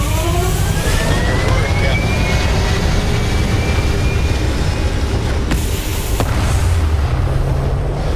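Spaceship engines roar through a launch in Starfield, a loud, steady rumble with a rising whine and a few sharp transient cracks, with a voice speaking faintly underneath.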